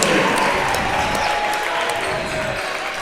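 Spectators at a boys' varsity high school basketball game clap in a steady, moderately loud burst across the gym, with crowd murmur and commentary voices underneath.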